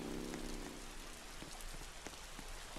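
Soft, steady rainfall in a Roblox Bloxburg game patters across a surface, faint and continuous, with scattered drops standing out and no voices.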